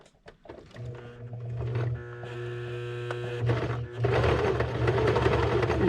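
A sewing machine stitches elastic into a sleeve, a steady mechanical whir running nearly the whole time with a brief pause, loud and close, with no talking.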